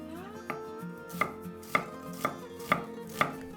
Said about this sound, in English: Cut an onion into chunks.